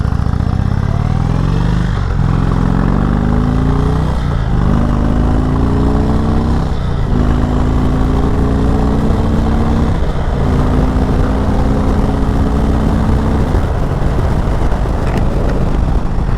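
A 2018 Indian Chieftain Dark Horse motorcycle with a Thunderstroke 111 engine pulls away hard. Its loud, close engine climbs in pitch through several gears, dipping briefly at each shift before rising again.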